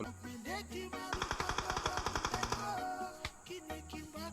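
Rapid bursts of automatic gunfire in a battle royale video game scrim, a steady volley of sharp cracks lasting about two seconds over a background of game music and ambience, with a few isolated shots after.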